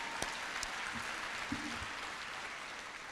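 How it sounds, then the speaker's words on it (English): A fairly faint, even patter of audience applause at a heritage month award presentation carries on steadily for a few seconds, with a couple of sharper knocks near the start. "So a round of applause to you guys."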